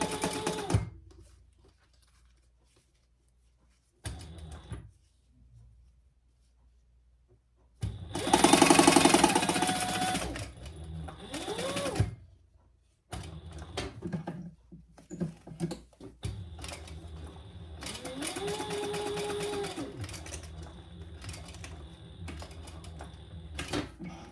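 A sewing machine bastes fabric while a wallet is being made, running in a loud stitching burst of a few seconds, then a shorter second run, with quieter handling sounds between.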